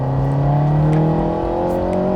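An Alpine A110 R Ultime accelerates on the damp Bugatti circuit at Le Mans, its engine note rising steadily and loud from inside the car, alone without talk.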